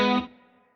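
An electric guitar lick through chorus and a short plate reverb: a bright, distorted chord-like note rings briefly, then decays into a shimmering tail, alone without talk.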